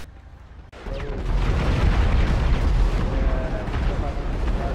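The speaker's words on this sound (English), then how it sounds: "So enjoy this explosion." Airstrike explosion in the GTA video game: after a brief quiet start, a heavy booming blast erupts and rolls on as sustained rumbling debris and fire noise, loud and close, with voices faintly mixed in.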